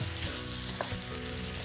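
Cheesy sausage dip with Rotel tomatoes and chilies being stirred in a pan over medium-low heat, a brief close sizzle with soft scraping of the spoon, no voices.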